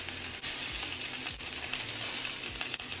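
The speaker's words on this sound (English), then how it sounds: "once your short ribs are done searing, you want to go ahead and remove those from your pot" Short ribs sear in a pot for red wine braised short ribs, giving a steady, loud close-up sizzle with occasional stirring scrapes and clanks.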